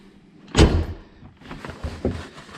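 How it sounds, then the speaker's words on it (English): Door of a Kawasaki KRX side-by-side, fitted with a Tusk door bag, swinging shut with one solid, loud thud, followed by faint rattling and handling noises nearby. "If you look at closing the door,"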